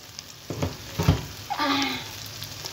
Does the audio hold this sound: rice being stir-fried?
yes